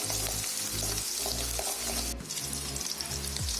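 Onion and curry leaves sizzle loudly in hot oil with popped mustard seeds during a South Indian tempering, a dense steady crackle with a few sharp stirring knocks.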